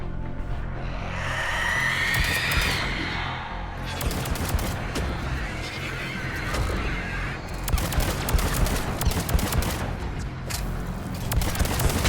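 Gunfire in the Mass Effect 3 video game, sustained bursts of rapid shots and sharp cracks over a loud, dense combat mix, continuing throughout with brief swells and dips.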